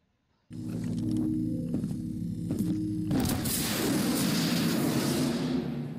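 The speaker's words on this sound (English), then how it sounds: "Now you see the explosion." RPG rocket explosion effect from the FPS Toolkit first-person shooter game: a mechanical whirring launch sound followed by a single loud, sustained booming blast that rumbles and fades, with no talk.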